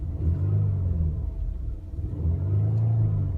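Engine of a 2017 Ford Explorer Platinum revving up against its rev limiter, a deep, steady droning rumble that swells, dips briefly, then rises and holds again, heard from inside the vehicle.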